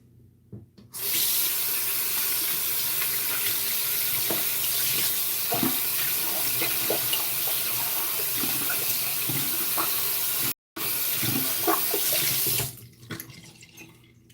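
A bathroom tap runs steadily at close range while a shaving brush is rinsed under it, a loud continuous gush with one brief break, then it shuts off into quiet.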